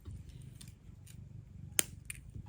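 A single sharp, faint snip cuts jewelry wire while trimming a handmade wire-wrapped dangle earring, a brief click in an otherwise quiet close-up setting.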